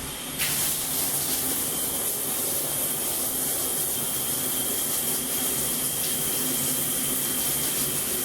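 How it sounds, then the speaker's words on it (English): Hot water runs steadily from a shower head in a building's plumbing, a constant loud hiss and splash that lasts throughout with no other sounds. "we'll want to turn the water on hot for 60 seconds"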